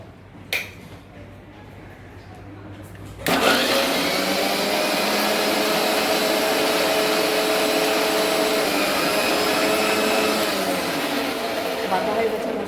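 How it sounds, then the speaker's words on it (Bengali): An electric mixer grinder starts abruptly and grinds spices with a loud, steady whirring roar that continues unbroken after a brief quiet lead-in with a small click. "এখন মিক্সি চালু করছি।"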